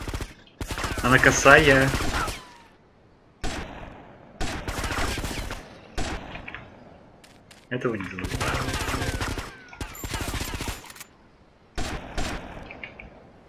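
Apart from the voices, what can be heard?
gunfire in the video game GTA Vice City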